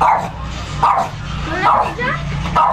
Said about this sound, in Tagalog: May aso, hindi makapasok. Tapang ng aso. Galit na galit, oh.